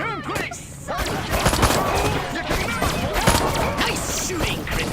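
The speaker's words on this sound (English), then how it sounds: "so I'm unlocking your disintegrator ray. Try it out on the fuzz!" Disintegrator ray fire aimed at police in Destroy All Humans, rapid crackling bursts with zapping sweeps and chaotic clatter, loud and close, with voices shouting over the shooting.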